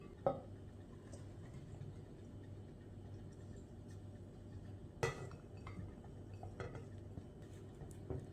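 Hazelnut cookie dough being mixed in a bowl, with faint, scattered clinks and scrapes of a utensil against the dish and a sharper knock near the middle, quiet and close.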